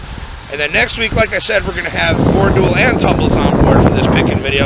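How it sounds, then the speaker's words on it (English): Wind buffets a microphone outdoors, probably aboard or near a boat, rising to a steady loud rumble that runs through the second half and overwhelms someone speaking over it. "Sorry about the wind."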